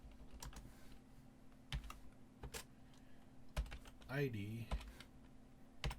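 Code being typed on a computer keyboard: scattered close key clicks and taps in irregular bursts, quiet overall, with a brief spoken word partway through.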